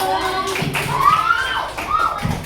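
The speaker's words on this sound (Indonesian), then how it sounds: "Ini tepuk tangan yang meriah dulu." Elementary classroom students clap their hands in short bursts while children's voices chant and call out over the clapping.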